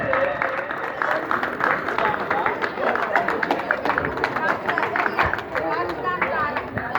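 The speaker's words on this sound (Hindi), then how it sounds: "समय तालियों से झंडे को स्वागत करेंगे" A school crowd gives sustained applause to welcome the national flag at a 26 January Republic Day ceremony at Janta Madhyamik Vidyalaya, Sonahita, Jaunpur. The clapping is dense and steady for the whole stretch, with crowd chatter underneath.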